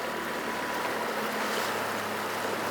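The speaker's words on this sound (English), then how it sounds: "You can see the waves on the Atlantic side breaking." Atlantic waves breaking on a shore heard from out on the water, a steady broad wash of surf and wind, continuous and moderately loud with no talk.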